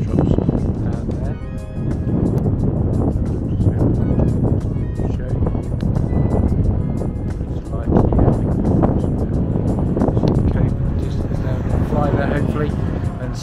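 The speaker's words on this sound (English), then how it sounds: "It's a little bit on the windy side" Strong 25–30 mph coastal wind at Bowleaze Cove roars and buffets the microphone in a steady, loud broadband rush across the whole stretch, with a muffled voice surfacing at times beneath the gusts.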